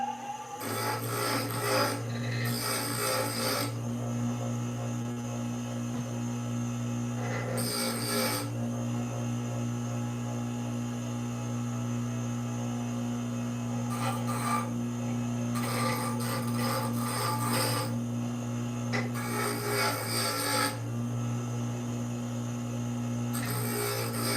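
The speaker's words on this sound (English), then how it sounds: "Easiest way I'm gonna get this flat is with this grinder." A grinder flattens a workpiece in a workshop in short, rasping abrasive passes that start and stop over a constant motor hum, close and with no talking.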